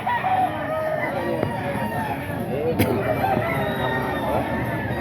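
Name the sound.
rooster crowing, gamecocks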